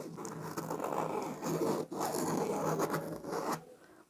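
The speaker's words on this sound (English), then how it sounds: "Now I'm going to mark the inner circle for my stitching line." A marker or pencil draws a stitching circle on scrap fabric for a doily pin cushion, producing close, continuous scratchy rubbing strokes with brief pauses between passes.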